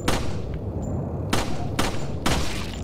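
Several loud gunshots burst out in a video game, a quick pair near the start and then three separate blasts spaced about half a second apart over a steady rumbling background.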